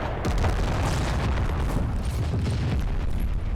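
Grenade blasts in the Cold War combat game Combat Mission: Cold War, a dense, continuous rumble of booming explosions and bursts with no clear gaps, loud and heavy throughout.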